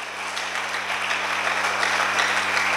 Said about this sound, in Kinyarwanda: Reka twongere dukomere Imana amashyi menshi.